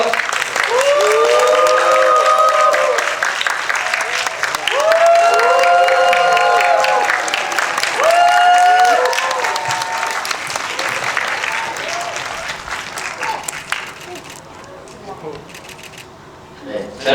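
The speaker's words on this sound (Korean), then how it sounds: "여러분 다시 한번 여러분 뜨거운 박수 부탁드립니다" A cinema audience at a stage greeting for the film 'Virus', with the director and cast appearing, breaks into loud sustained applause and cheering. An announcer's amplified voice carries over the crowd before the noise gradually thins out.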